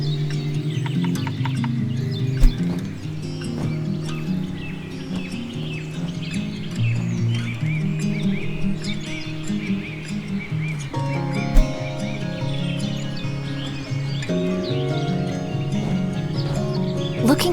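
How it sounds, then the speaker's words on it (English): Birds call throughout a longleaf pine forest preserve at Weymouth Woods, a steady busy mix of chirps, tweets and clucking calls at moderate volume with no talk. "160 species of birds make the preserve their home."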